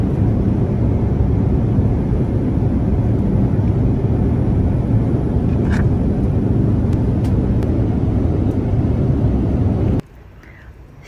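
Steady, loud broadband roar inside a China Southern airliner cabin during a long-haul flight, continuous for about ten seconds before dropping abruptly to a much quieter hum.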